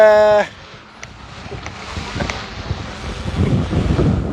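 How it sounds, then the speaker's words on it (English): Strong wind buffets the microphone with a constant roaring rush, gusts rising and falling, after a short burst of talk at the start, at a vintage hydroplane race. "really windy out here right now"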